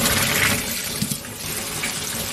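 Frozen, precooked silkworm pupae being rinsed in hot water: a close, steady wash of running and splashing water with a few small knocks, lasting a couple of seconds.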